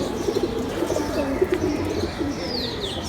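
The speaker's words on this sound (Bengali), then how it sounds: "একটা কামাগার মাদি পাকিস্তানি কবুতর দুবাই থেকে আনা" A female Kamagar Pakistani pigeon brought from Dubai coos in a steady, soft rolling stream at close range, with faint chirps from other birds higher up and no talking.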